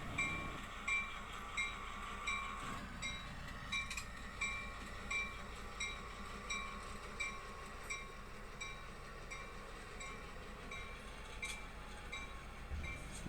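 A Cape Cod afternoon excursion train rolls past out of Buzzards Bay with the kitchen car in its consist, a steady rumble of rail noise with faint clicking, held at a moderate distance and alone.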